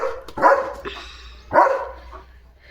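A German Shepherd barks loudly and close by, two heavy barks spaced about a second apart over a low background hum.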